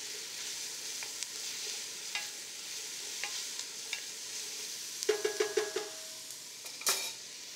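Cajun trinity vegetables, onion, celery and bell pepper, frying in oil give a steady soft sizzle, broken by scattered spoon taps and a short burst of clattering stirs near the end, with no voices.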